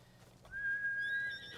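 A horse in the samurai video game Ghost of Tsushima gives a faint, thin, whistling whinny lasting about a second, with no talking over it.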